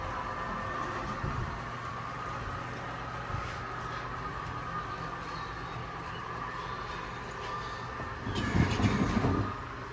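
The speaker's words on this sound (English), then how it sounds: "got some more equipment on the train coming down off the hill." A train hauling construction equipment rumbles steadily down off a hill, a continuous low mechanical drone with a louder swell of rolling noise near the end, heard alone without talk.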